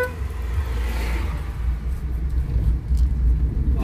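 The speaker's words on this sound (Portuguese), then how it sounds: "aquele louco que tava lá no caminhão passou ali" Truck driving past on a curvy road near Nova Petrópolis at sunset, a close, loud low engine rumble that swells and rolls by, with a faint higher whine early on.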